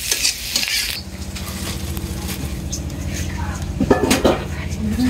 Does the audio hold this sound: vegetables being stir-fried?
yes